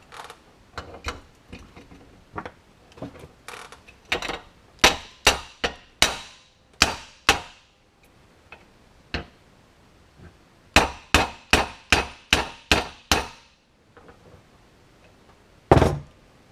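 A hammer punches out a part from a hard drive motor, striking metal in sharp, ringing clangs, some in irregular bursts and others in a quick run of evenly spaced blows, loud and close, with quiet gaps between.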